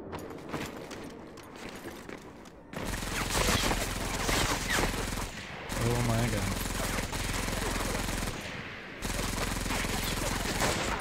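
Gunfire in Medal of Honor: Vanguard on Hard difficulty, dense rapid automatic bursts starting after a quieter opening and continuing in loud stretches broken by brief pauses, with a voice talking underneath.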